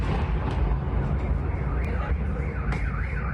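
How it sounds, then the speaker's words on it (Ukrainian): Heavy rumbling booms from explosions during a drone attack on a city roll through a dense, noisy background while a car alarm wails and warbles nearby, loud and chaotic. "Потім потужні вибухи."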